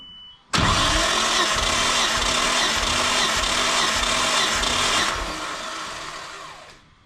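An R32 GTR engine cranking over with the spark plugs out, a loud, close, even rhythmic churn of the starter that runs for several seconds, then eases off and fades, alone without speech.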